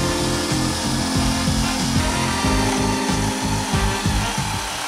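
Power tool boring 90-degree holes into wood for a homemade workbench-desk, a steady loud mechanical whir with a rhythmic grinding pulse, close and continuous, no talking.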